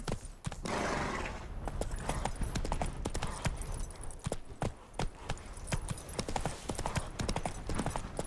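Roach, the horse in the Witcher 3 video game, gallops along with rapid, loud, rhythmic hoofbeats that run continuously through the whole stretch, with no talk over them.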